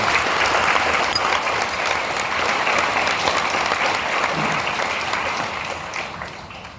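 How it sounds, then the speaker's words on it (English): Audience applause at a pharmacy and nutrition college graduation event, a full steady roar of many hands clapping that holds evenly and then tapers off at the end. "So I just want to clap for Courtney and Calvin."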